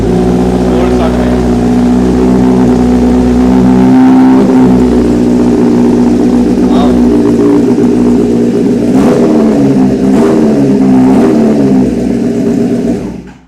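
A loud motorcycle engine runs steadily at close range with a deep rumble, rising and falling slightly as it idles and revs, with no pauses throughout.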